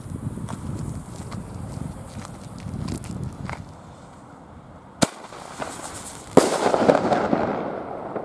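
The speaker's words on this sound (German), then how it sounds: "Und gleich hinterher Vortrags-Salute." Funke Vortex salute fireworks burst outdoors: a sharp single bang lands a few seconds in, then a second loud report follows with a crackling whirl trailing after it, over light background rustle and wind.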